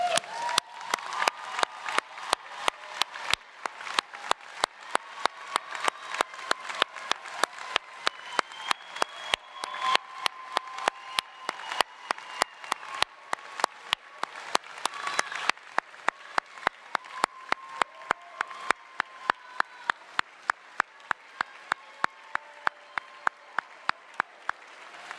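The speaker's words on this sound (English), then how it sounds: "let's all join in a round of applause" Audience applause fills an auditorium at a veterinary medicine graduation ceremony, a steady dense clatter of many hands with sharp individual claps standing out, sustained evenly for a long stretch without voices.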